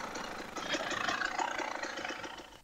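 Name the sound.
KTM 300 TPI two-stroke dirt bike engine on a trail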